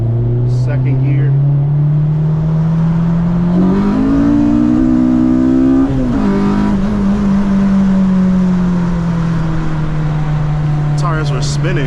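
Loud, close engine drone from a 240 hp K24-swapped Honda Civic Si pulling in second gear, pitch climbing steadily then easing, with a brief shift-like break midway and a voice speaking faintly near the end.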